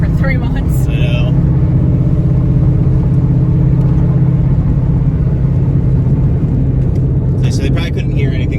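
Built Ford Mustang engine on dyno rollers, a loud close droning rumble held steady throughout as it runs through the gear shifts, with voices talking faintly over it.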